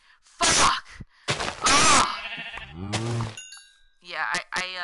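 Minecraft sheep let out several loud, close bleats in short bursts, with a person's voice mixed in among the game sounds.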